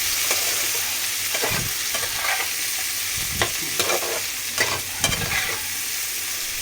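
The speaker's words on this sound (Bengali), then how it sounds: "পেঁয়াজগুলো দিয়ে দেবো।" Onions fry in a pan for mutton curry. A constant sizzle runs under repeated scraping stirs that come in short bursts, close and fairly loud, with no voices.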